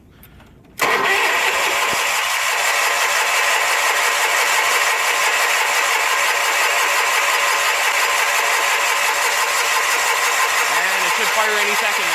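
A Sears Suburban SS16 garden tractor engine cold-starts in winter, cranking briefly before catching at once. It then settles into a loud, steady idle that runs on, with a voice talking faintly over it.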